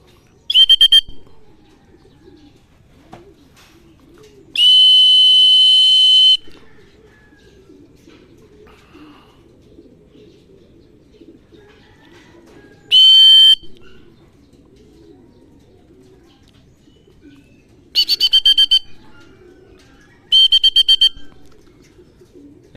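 Racing pigeons at a training release in Cabanatuan, Nueva Ecija, heard as five separate bursts of loud, close whistling, chirping calls, the longest near the middle, over a quiet background hum.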